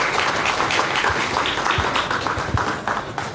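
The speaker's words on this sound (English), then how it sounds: "Can we have a good round of applause for the Bhagyanagar chapter," A crowd at a business forum's cultural program evening applauds. A steady, dense wash of clapping fills the whole stretch at even loudness, with no clear talk over it.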